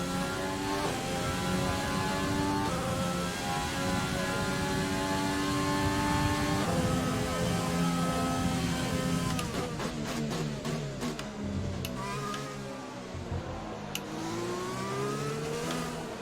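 An F1 car engine in the F1 2020 video game, racing in Vietnam after losing power: a loud, steady, droning whine holds throughout, then wavers and shifts pitch toward the end.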